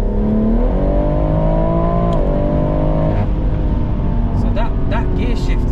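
Sustained engine roar from a 4WD-swapped BMW M140i under hard acceleration, loud and close from inside the cabin, with abrupt pitch drops at quick gear shifts and faint voices underneath.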